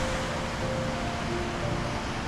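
Ocean surf breaking over an outer sandbar beyond a beach trough, heard as a steady broadband wash of crashing waves with wind noise, continuous and fairly loud without talk.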